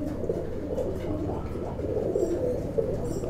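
Tippler pigeons cooing inside a loft, soft low throaty coos repeating in overlapping bursts, close by and steady against a faint background hum.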